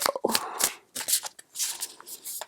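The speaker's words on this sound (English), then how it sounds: "we're just going to shuffle the cards and see what comes out" A deck of cards is shuffled by hand in several quick bursts of crisp riffling and flicking, close and fairly quiet, separated by short pauses.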